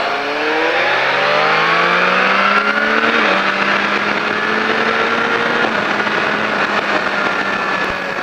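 A race car laps a circuit during a rider school track session, its engine loud and close as it revs up through rising gears, shifts, then holds a steady high drone.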